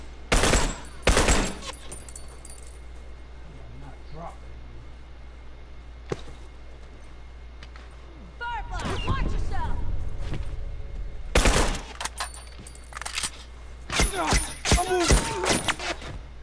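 Rifle gunfire from The Last of Us Remastered crackles in sharp, loud bursts, several separate shots and a rapid volley, set against low game ambience and brief voice chatter.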